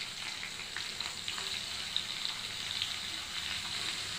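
Chopped onion, capsicum and tomato pieces fry in a pan with a soft, even hiss that sounds almost like light rain, plus a few faint crackles, quiet and steady throughout with no voices.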